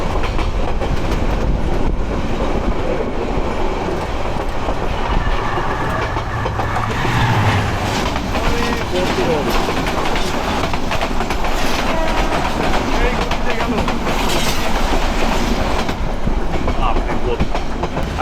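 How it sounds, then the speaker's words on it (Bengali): The Udayan Express on the Chattogram–Sylhet line passes close by, a loud continuous roar of wheels and rattling carriages with rhythmic clickety-clack, heard from aboard another moving train in a tunnel-like dark stretch. "যাত্রাপথে আমাদের দেখা হয়ে যাবে এখন চট্টগ্রাম থেকে সিলেটগামী উদয়ন এক্সপ্রেসের সঙ্গে। ওইটা আসছে উদয়ন।"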